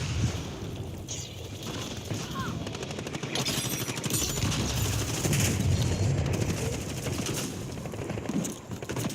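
Kilo rifle gunfire in Black Ops 6 rattles in dense automatic bursts through the middle of the stretch, loud and continuous over battlefield noise and wind-like ambience.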